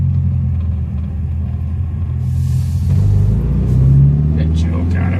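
Classic car on a first run out after workshop repairs, its engine droning low and steady under a quiet gearbox while driving, with a brief rise in revs and someone talking over it.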